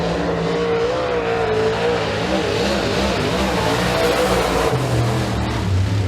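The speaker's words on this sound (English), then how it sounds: "Cole Wanzer coming around for lap number 2" A super late model race car on a qualifying lap at Eriez Speedway, its engine roaring loud and steady throughout, with pitch shifting as it drives through the corners and accelerates.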